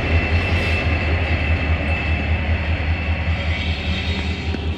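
A freight container train rolls steadily past the trackside at Tempe in Sydney, producing a continuous, close, loud rumble of wheels and wagons with a faint higher ringing, and no talk.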